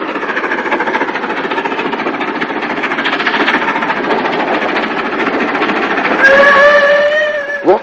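A 9F steam locomotive on the Somerset & Dorset line emerges from a cutting, its steady loud chugging exhaust and rolling rumble close by, with a whistle-like tone sounding near the end.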